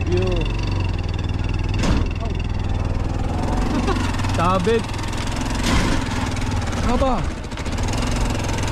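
A motorcycle tricycle stuck on a slope idles with a steady, close mechanical chug, running throughout while people talk over it.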